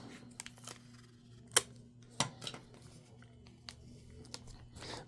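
Packing tape is pulled and cut in a quiet room, giving a few sharp crackling rips and snips scattered among softer rustles, close by and with no talk.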